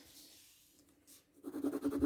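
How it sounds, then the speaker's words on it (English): A drawing tool shades over newspaper and book paper for a cubist artwork, making faint, close scratchy strokes that grow louder and more rhythmic toward the end. "we're going to have a go at shading over the top of this paper"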